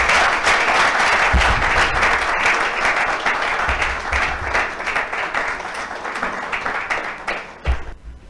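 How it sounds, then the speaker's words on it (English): Sustained audience applause fills a hall at a business mentorship scheme launch, loud dense clapping from a large crowd that stays steady for several seconds before thinning out toward the end. "Another round of applause for our president."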